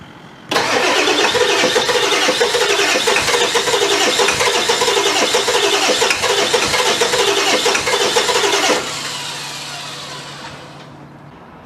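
A Ford Power Stroke diesel truck engine struggles to start, cranking loud and steady for about eight seconds before settling into a lower rumble that fades away.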